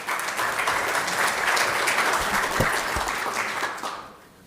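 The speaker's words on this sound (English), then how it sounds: "An applause, please." Applause from a conference audience after a speaker is introduced for a lightning talk, steady broadband clapping for about four seconds that fades out at the end.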